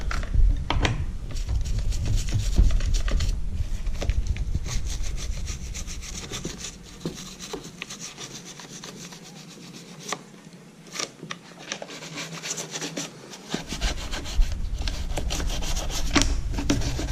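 An old toothbrush scrubs a string trimmer's carburetor in fast, uneven bristly strokes close up, loud at the start and end with a quieter stretch in the middle, and no one talking.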